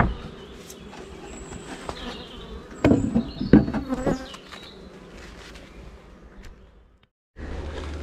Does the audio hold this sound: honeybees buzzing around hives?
yes